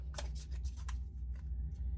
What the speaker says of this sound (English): I'm going to give it 2 more shuffles.